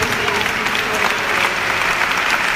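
A church congregation claps steadily and densely during a charismatic prayer service, a loud continuous wash of hands with no pauses.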